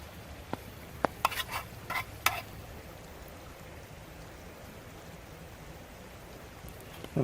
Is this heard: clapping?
no